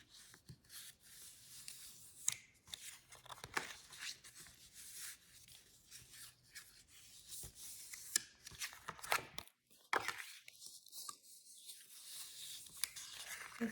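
Lace paper being folded into pleats, a steady papery rustling and rubbing with soft creases and scrapes close by, a brief pause near the end, no talking.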